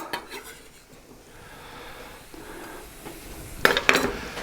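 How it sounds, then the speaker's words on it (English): Onions stirred in a Dutch oven on a Kamado grill: faint sizzling and scraping under quiet ambience, ending in two sharper metallic clinks of the utensil against the pot. "I'll give that a little stir, just so it's, I just want it to sweat"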